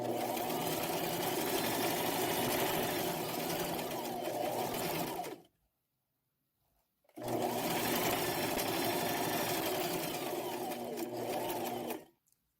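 A sewing machine stitches panels of a custom wedding gown, running steadily for about five seconds, pausing in silence for nearly two, then running again for about five more, close and even with no talk.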